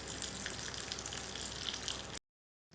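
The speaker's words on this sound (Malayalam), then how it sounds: "മുന്തിരിങ്ങ ഇട്ടിട്ട് നന്നായി ഫ്രൈ ചെയ്തിട്ട് നമ്മൾ റൈസിലേക്ക് ഇടുക" Cashews and raisins fry in hot ghee for venn pongal, giving a steady, dense sizzling crackle up close that continues evenly, then cuts off abruptly near the end.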